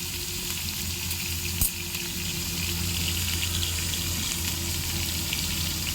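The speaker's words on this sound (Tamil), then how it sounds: "நம்ம வெங்காயத்தை நல்லா வதக்கிக்கணும்" Onions frying in a pan for chicken biryani, a steady continuous sizzle with a low hum underneath and one brief clack near the start, no voices.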